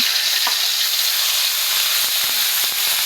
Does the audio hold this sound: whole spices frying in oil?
yes